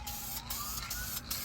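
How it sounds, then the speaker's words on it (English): Steady hiss of a Duplicolor vinyl and fabric aerosol spray can held down continuously for over a second, with brief pulses in the spray, close and fairly loud. "come in here, spray this down."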